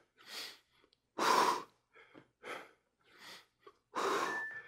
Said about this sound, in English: Let me hear you breathe